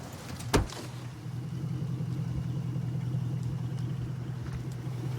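A truck engine idles with a steady low rumble at a roadside traffic stop, a sharp knock near the start and then the motor running on unchanged, close and fairly loud.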